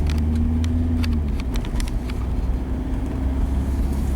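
A 2005 Jetta with an 09A automatic transmission shifts into second gear, its steady engine drone holding close and loud while the pitch drops as the gear change takes hold, with no talking.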